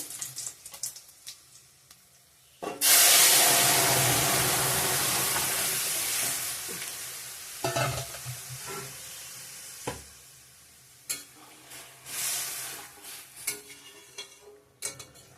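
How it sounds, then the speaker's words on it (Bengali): A tempering of bay leaf, dried chili, onion and panch phoron fries for masoor dal with greens, bursting into a loud sizzle that slowly fades, followed by scattered stirring scrapes and pot clatters. "ফোড়নটা হয়ে গেছে এখানে তেজপাতা শুকনো লঙ্কা পেঁয়াজ পাঁচফোড়ন দিয়ে দিয়েছি"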